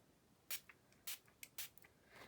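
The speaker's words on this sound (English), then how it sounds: "I'm going to bring the spray across" An ink spray bottle is spritzed across a stamping surface in a series of short, close hissing bursts with brief pauses between them, and no one is speaking.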